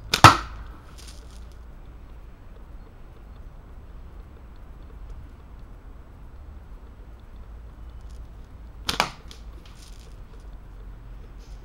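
A cheap slingshot is shot at bottles, giving two sharp isolated snaps or impacts, one right at the start and another about eight seconds later, with quiet low background rumble in between.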